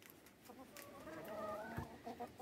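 Backyard chickens cluck and murmur softly while being fed corn, oyster shell and pellets on a rainy morning at a rural farm. Several birds call over a steady background hiss, and the calls are faint and continuous.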